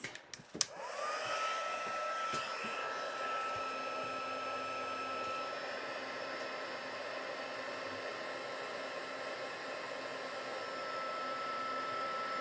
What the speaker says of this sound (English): And then I'm going to heat emboss those.